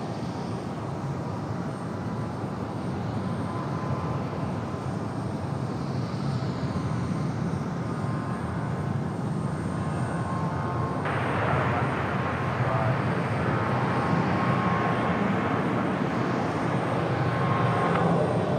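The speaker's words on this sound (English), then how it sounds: "Runway heading clear for takeoff, 23 left, Southwest 3766" A Southwest airliner roars steadily during its takeoff roll from runway 23 left at Raleigh-Durham International, loud and sustained with broadband engine noise throughout.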